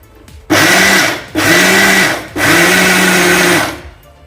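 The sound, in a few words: mixer grinder grinding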